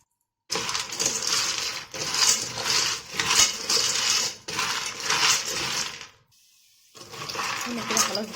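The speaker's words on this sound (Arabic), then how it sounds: "هفضل اقلب فيها كده لغايه ما تبدا تاخد اللون البني معايا" Dry penne pasta being stirred and browned in a pan, loud rattling and scraping in repeated bursts separated by short pauses.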